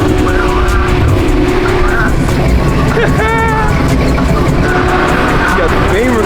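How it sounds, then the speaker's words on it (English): A BMW M4 conversion with a big rear wing rolls into a busy car meet, its engine revving loud and close while other exhausts and crowd chatter fill the background and people talk over it. "You got the Beamer coming in with a hot wing on it."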